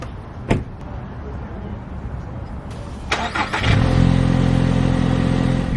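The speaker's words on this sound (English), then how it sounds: "Test out this trusty TRD Sport on the road" A 2024 Toyota Tacoma TRD Sport pickup pulls off and drives on the road, a low engine drone building steadily and close after a few thumps and clicks from inside the cab.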